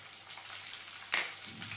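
Chillies drop into hot oil with browning garlic, giving a faint, steady sizzle and a brief louder burst of spitting as they hit the pan.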